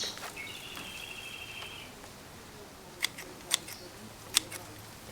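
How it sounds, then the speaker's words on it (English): Scissors trim a fruiting bonsai tree, snipping three times in sharp, close, isolated clips spaced about a second apart against a faint, quiet background. "it needs a fair trimming. So I'll just start nipping stuff off"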